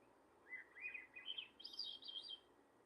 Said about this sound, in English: listen to the pet finches copy this